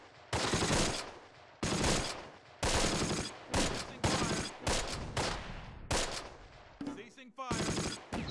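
Repeated bursts of gunfire from the wartime strategy game Close Combat: The Longest Day, loud and close, several sustained volleys separated by short gaps, with a rattling automatic burst near the end.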